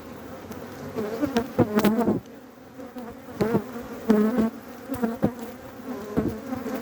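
Honey bees buzz around an open hive during an early-February hive inspection, a steady close drone with individual insects whining past the ear in repeated loud swoops.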